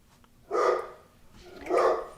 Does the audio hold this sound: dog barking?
yes